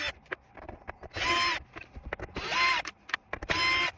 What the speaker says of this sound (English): I'm gonna try to unscrew it here.